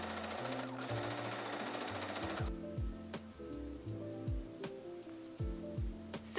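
A sewing machine stitches a boning casing along a bodice seam in a rapid, even mechanical chatter, pausing briefly and restarting in short runs, close and clear with no talk.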